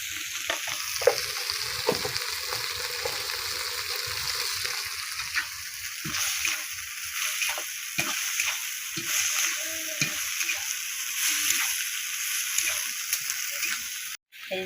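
Beans with dried fish and a little turmeric fry in a pan, a steady bright sizzle running the whole time, with frequent scraping stirs and clacks of the spoon close by; no one speaks.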